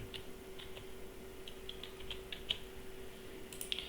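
Faint, scattered keystrokes on a computer keyboard tap out a captcha code, quick light clicks in short bursts over a quiet background hum.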